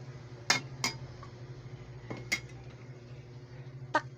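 A pot lid and cookware clatter as a pot of chicken stewing in coconut milk is covered. A few sharp metallic clinks stand out close over a low steady hum, with no talk.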